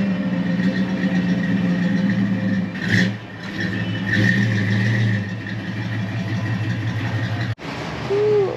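An old Buick truck engine runs and revs outdoors at a car show, a steady rumbling idle with a brief surge of revving midway, fairly loud and near, then cutting off abruptly near the end.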